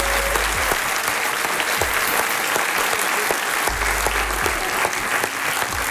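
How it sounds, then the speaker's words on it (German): Studio audience at a German late-night TV show applauding, a dense, loud, steady wash of clapping that keeps going throughout with no voices on top. "Großen Applaus für den zweiten Leon,"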